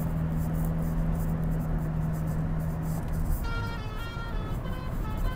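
A Toyota Innova Crysta cruising on a highway, a steady low road and engine hum with tire noise heard from inside the cabin, with a faint higher tone entering late.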